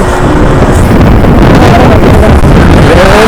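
Strong wind roars continuously and loudly against the microphone during a ride on an X-Pulse motorbike, a dense, unbroken buffeting rush with no pauses.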